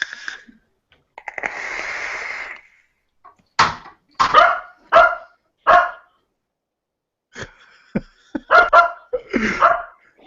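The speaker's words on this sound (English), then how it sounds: "the dog is going nuts" A small dog barks in repeated sharp bursts, some clustered and some spaced apart, loud and fairly close, with a longer whining yelp near the start.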